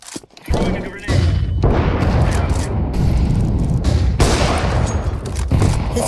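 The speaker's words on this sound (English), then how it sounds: "Throwing a grenade." A grenade going off in Counter-Strike 2, a heavy blast followed by loud sustained rumbling and thudding combat noise, with a person talking over it.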